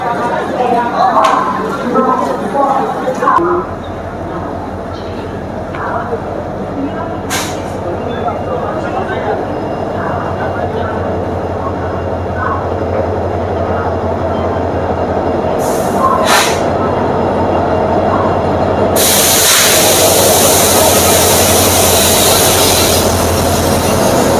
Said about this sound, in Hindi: ট্রেন আইতাছে এই যে ট্রেন পিছনে আইতাছে মানুষ পুরা দৌড়াদৌড়ি লেগে আছে